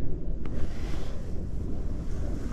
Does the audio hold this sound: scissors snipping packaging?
no